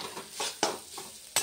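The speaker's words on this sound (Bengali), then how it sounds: "এটা একটু ধীরে ধীরে ভাজা হবে" Spices and vegetables frying slowly in oil in a pan, with a soft steady sizzle broken by several distinct scraping stirs of a spoon against the pan, close and fairly quiet.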